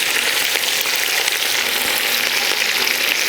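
Green chillies hitting hot oil in a tempering of mustard seeds, urad dal and dried red chillies, giving a steady, dense sizzle that stays loud and even throughout with no talking.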